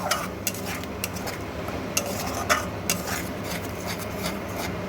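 A spoon scrapes and rubs against a pan while a potato and parwal curry is stirred and fried down over medium-low heat, with close, irregular scraping strokes and small metallic clicks, no voices.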